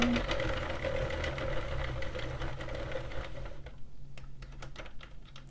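A Sentro or Addi hand-cranked plastic knitting machine knitting rows, with a fast continuous clicking rattle that keeps going, then turns sparser and choppier for the last couple of seconds.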